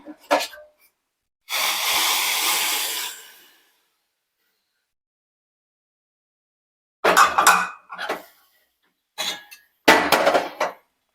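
Tea is poured into a cup in one smooth, close, hissing stream lasting about two seconds, followed by silence and then a few short clinks and bursts of sound.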